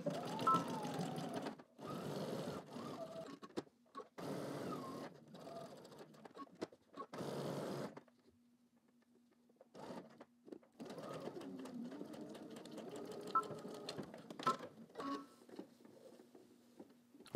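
A sewing machine stitches fabric along a 5/8 inch seam for shorts, running in short rapid bursts separated by pauses, then a longer run after a quiet stretch with a faint steady hum.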